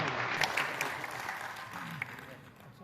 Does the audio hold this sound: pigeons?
no